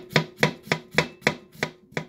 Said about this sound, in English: then cut onion,